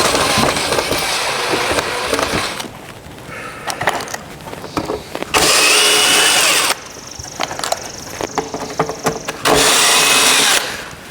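A power drill drives screws into a custom door panel in several loud bursts, each a harsh whining buzz lasting one to two seconds, separated by quieter gaps of handling noise, close and dominant.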